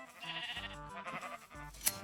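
Sheep bleating in the Minecraft video game, several short repeated bleats in quick succession over a steady background.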